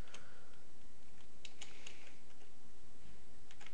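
Steady clicking of typing on a computer keyboard while entering DOS commands, close and continuous with irregular keystroke taps and no talking.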